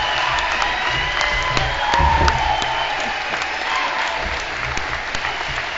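An outdoor crowd at a bison range celebration claps for Secretary of the Interior Deb Haaland, sustained applause with scattered cheers and whoops that rises briefly midway.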